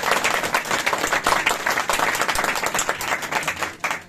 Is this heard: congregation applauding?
yes